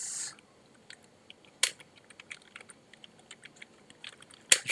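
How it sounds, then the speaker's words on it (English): Lettering is typed on a computer keyboard into Hatch embroidery digitizing software, producing close, quiet, irregular key clicks with a few sharper, louder taps, and no speech. "we're going to be typing in our wording"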